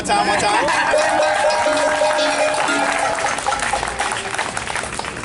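A crowd at a justice rally claps and cheers loudly and continuously, a dense wash of hand claps mixed with voices that stays strong and only eases slightly toward the end.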